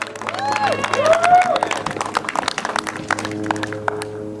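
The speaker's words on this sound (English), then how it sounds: "So please give Kim a big round of applause, everybody. Please, make some noise." Audience applause at an outdoor Martin Luther King Day event in Lake Elsinore, scattered clapping with cheers and whistles mixed in, loudest early and fading to sparse claps, with voices audible in the crowd.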